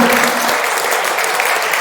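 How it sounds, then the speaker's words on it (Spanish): A church congregation applauds loudly and steadily, a dense wash of many hands clapping close by, filling the whole moment without pause. "Quiero un fuerte aplauso"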